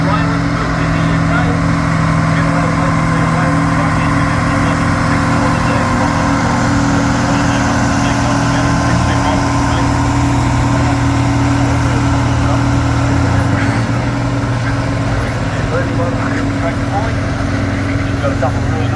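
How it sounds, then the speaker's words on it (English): A Leyland 285 vintage tractor engine, British built, runs at a tractor pull at a vintage machinery rally, a loud steady low diesel drone throughout, with an announcer talking over it. "This tractor is a Leyland 285 owned by Bernie Rao from the Sale Vintage Tractor Club"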